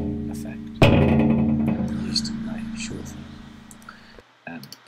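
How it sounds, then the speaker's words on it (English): A rumbling earthquake sound effect used in an animated storm scene, with a sudden loud onset of low, harmonic rumble that slowly decays over several seconds before cutting off, followed by a brief rustle. "It's a sound of like an earthquake effect."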